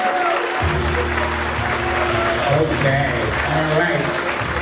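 Sustained applause from guests at a retirement dinner, steady and fairly loud throughout, with a voice speaking over it.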